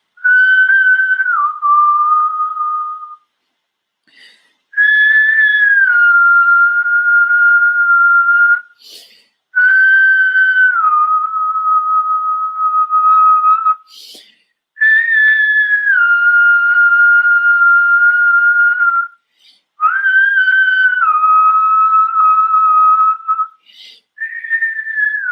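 Someone whistles slow, sustained tones in repeated phrases, each note held and gliding slightly downward, with short silences between phrases.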